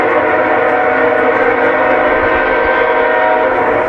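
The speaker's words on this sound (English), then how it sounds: "Good train." A train passes close and loud, its steady sustained horn tones layered over a continuous heavy rumble of rolling rail cars, with no voices.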